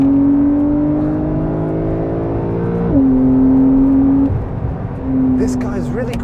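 A 2020 Porsche 911 Carrera 4 (992) drives on a mountain road, its engine drone steady and loud inside the cabin, shifting pitch once mid-run, with a voice talking over it.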